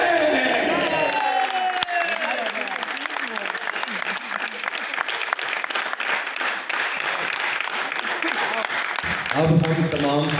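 At a stage drama performance, a dense crowd roars with applause and cheering in a loud, continuous wash of clapping that fills the hall, with amplified voices and music cutting in near the end.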